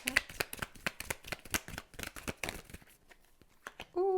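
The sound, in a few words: shuffling and drawing tarot cards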